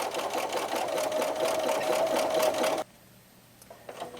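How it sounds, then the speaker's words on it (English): A Bernina sewing machine with a 3A buttonhole foot stitches a buttonhole in a steady close whirring run of rapid stitching, then stops abruptly, leaving quiet room tone with faint small clicks. "Then it starts sewing the top edge and then down the side."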